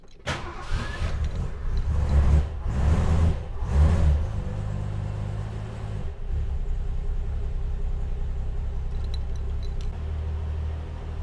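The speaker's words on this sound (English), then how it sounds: "All right, so we've got the car running." An early Ford Falcon with a FoMoCo instrument voltage regulator, not started in a long while, cranks in bursts and catches, then settles into a steady low idle rumble close by, with no talk.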